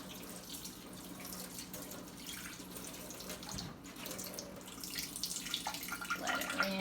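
Reverse osmosis water runs steadily from a tap as something is rinsed in a kitchen sink, a continuous close splashing that swells slightly louder toward the end, with no talking.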